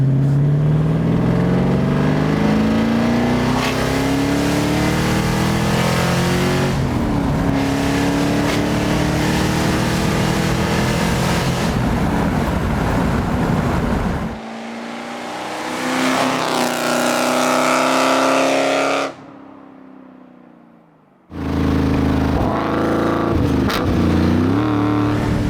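A 1975 Alfa Romeo Montreal engine pulls hard through the gears, loud and close, rising in pitch with each gear, with brief drops at the shifts before it climbs again.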